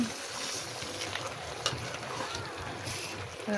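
Chicken pieces coated in biryani spice mix fry in a pan with a steady broadband sizzle, broken by a few brief scraping stirs. It sounds close and moderately quiet, with no talking.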